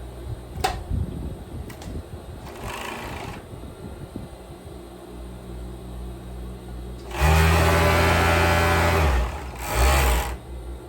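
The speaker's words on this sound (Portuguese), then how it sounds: "a gente vai agora fazer as costuras de over, é só passar over" An overlock serger runs along the shoulder seam of a kimono-style dress, whirring loudly in one long burst and then a shorter one after quieter moments of fabric handling and faint clicks.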